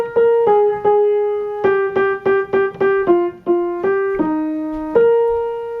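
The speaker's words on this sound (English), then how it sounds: "Okay, the opening melody is this." Solo piano plays the opening melody of the verse of a jazz standard: a simple single-line tune of about fifteen clear notes, some held and some quick repeated, close and alone with no talking.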